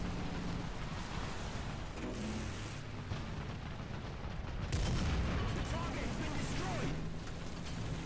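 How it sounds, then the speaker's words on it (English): An enemy anti-aircraft gun firing in War Thunder during a British tank battle, heard as sharp reports and rattling bursts under engine rumble, growing louder near the middle of the clip. "Ooh, looks like there's an enemy anti-aircraft."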